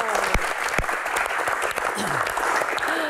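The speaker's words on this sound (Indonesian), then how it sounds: "tepuk tangan" An audience at a Q&A session with a badminton player claps in a dense, steady patter of applause, with voices speaking over it throughout.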